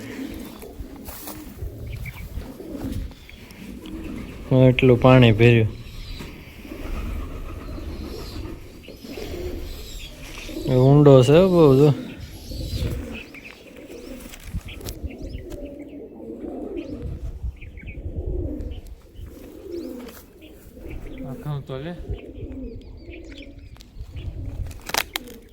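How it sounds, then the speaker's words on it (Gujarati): Pigeons cooing near a village well, two bursts of deep, throaty rolling coos stand out, with faint wing noise and a person talking quietly in between. "આ કબૂતર ઉડે"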